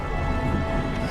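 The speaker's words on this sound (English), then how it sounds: "Rain!" Steady rain with rumbling thunder in the video game Yes, Your Grace, a dense, continuous wash of noise at constant loudness with no pauses.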